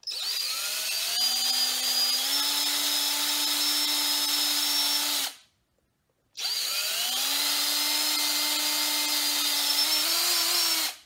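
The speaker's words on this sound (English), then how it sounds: "take this drill bit and you just widen these holes a little" Power drill with a metal bit widening holes in a homemade tiger-claw grip, running steadily for about five seconds, a brief pause, then a second equally long, loud run with a steady whine.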